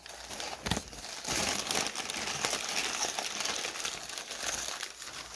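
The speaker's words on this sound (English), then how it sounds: "I'm going to take all this off while my cat plays with all the paper and all the boxes." Packing paper crinkles and rustles steadily as a stage combat weapon is unboxed, with a cat playing in the paper nearby; a close, continuous crackling texture with a brief spoken remark.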